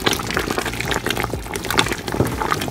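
Water splashes and gurgles as it is poured into a pot of chicken and dumplings, a continuous, close filling sound lasting a few seconds.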